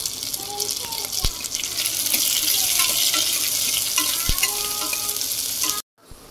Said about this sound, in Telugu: ఇప్పుడు ఈ ఉల్లిపాయలంతా కొంచెం ట్రాన్స్పరెంట్గా అయ్యేంత వరకు మనం వేయించుకోవాలి